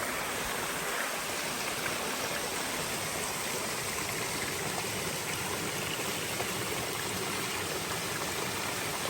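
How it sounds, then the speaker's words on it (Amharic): A waterfall at Wenchi roars with a steady, dense rush of falling water, loud and unbroken throughout with no voices. "የሚገርም ፏፏቴ ማለት ነው።"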